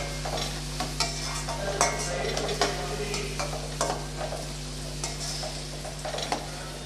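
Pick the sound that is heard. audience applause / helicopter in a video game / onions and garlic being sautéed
onions and garlic being sautéed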